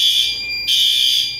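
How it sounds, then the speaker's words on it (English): Smoke detector fire alarm sounding during a test, a loud piercing electronic tone held steady, cut off briefly midway, then resuming close to the listener. "It's in fire alarm right now, and I'm testing it."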